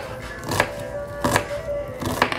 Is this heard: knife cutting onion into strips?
yes